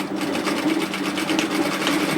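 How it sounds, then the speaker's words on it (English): A sewing machine stitching a dress seam runs at an even, rapid mechanical whir with a fast needle pulse, close and loud throughout without pause. "sew a seam at 1 centimetre and 3/8 of an inch"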